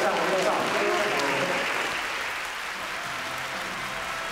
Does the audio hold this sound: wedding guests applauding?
yes